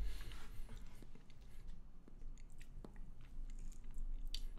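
Close, soft chewing of chocolate-coated cake, with faint moist mouth sounds and small crunches spread across several seconds at low volume, no talking.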